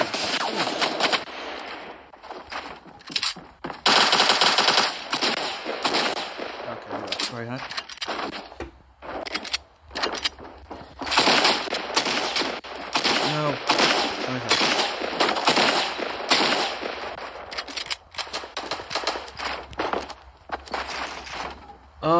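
Rapid AK rifle fire in the Fortnite video game, with repeated dense bursts of shots and short pauses between them, loud and close.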